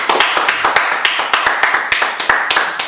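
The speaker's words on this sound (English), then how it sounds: "Clap on the stage." Sharp claps ring out close and loud in a steady, slightly uneven rhythm, roughly a dozen in three seconds, with no talking over them, from people on a wrestling podcast stage.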